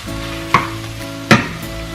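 Bhindi (okra) cooking in a pan, with a steady sizzle under a low hum and two sharp stir scrapes or clanks about a second apart.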